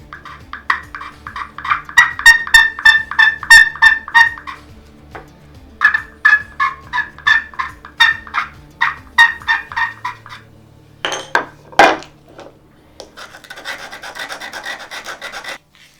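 Turkey pot call worked with a striker, giving repeated raspy clucks and yelps in rhythmic bursts, followed by sharp scratchy strokes and a softer purring rasp at the end, close and clear with no talking.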